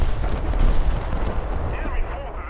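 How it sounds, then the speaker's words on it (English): A shell fired across the bow of the player's ship in War Thunder lands as a loud, rumbling boom and roar that fades, with a voice talking over it. "somebody just put a shot across my bow"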